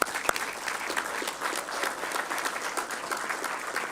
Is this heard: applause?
yes